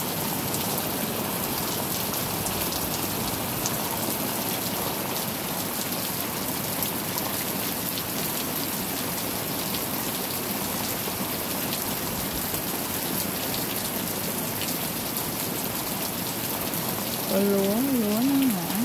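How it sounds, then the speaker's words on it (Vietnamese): Heavy rain pours steadily during a storm in rural Vietnam near rice fields, a dense continuous hiss throughout with a voice briefly heard near the end. "Mưa hoài vậy ông trời."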